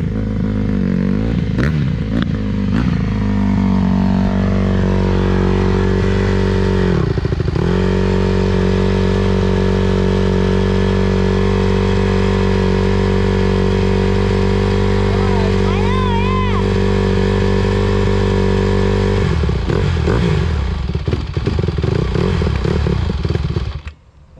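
A Honda CRF150 dirt bike engine sputters to life after sitting unused, then idles loudly and steadily up close with a few blips and rough catches before cutting out; voices talk over it briefly.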